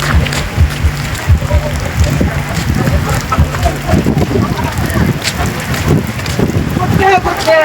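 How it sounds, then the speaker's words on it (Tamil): Heavy rain pours during a jeep safari trip in the pine forests of Vagamon, a loud dense patter mixed with wind buffeting the microphone, with voices and rumbling underneath throughout. "மழை வேகமா பெய்யறதுனால"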